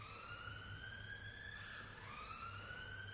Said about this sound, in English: An ambulance pass by.